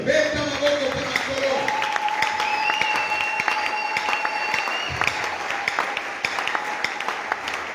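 Church congregation applauding and cheering together throughout, steady dense clapping with voices and a sustained sung or shouted tone rising over it, fairly loud and continuous.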